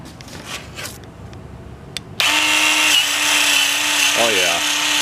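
A Dremel Versa PC-10 power scrubber fitted with an abrasive brown pad switches on abruptly and runs with a loud, steady motor whine, its pitch dipping briefly near the end as the pad bears down on a surface.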